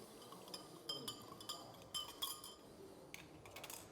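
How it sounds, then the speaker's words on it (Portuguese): A spoon stirring salt into a glass of water, a series of light metallic clinks against glass in an irregular rhythm, fairly faint and close. "Nós vamos pegar uma quantidade de sal, vamos misturando na água."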